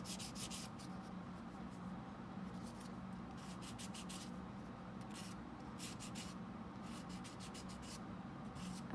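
Hand sanding with 600 grit sandpaper gives soft, quiet rubbing strokes in repeated short bursts, close by and alone.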